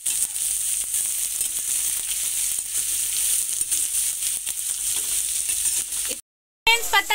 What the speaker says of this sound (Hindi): पत्ता गोभी भी इसमें डाल दूंगी मैं, और हल्का इसे भूनना है।